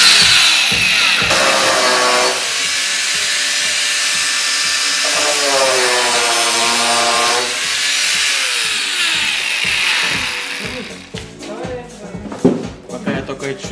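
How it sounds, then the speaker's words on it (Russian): A power saw cuts through the metal body of a VAZ 2102 car, a loud sustained whine that shifts pitch as the blade bites, then breaks off into clattering and scraping of metal near the end. "Сейчас буду пилить."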